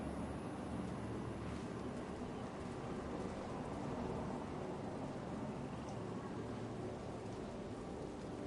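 Steady rain storm in Dragon Age: The Veilguard, a constant soft hiss of rainfall, fairly faint and even throughout, with no talk or distinct thunder.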